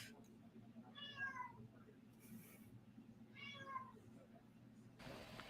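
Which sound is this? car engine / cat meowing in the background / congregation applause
cat meowing in the background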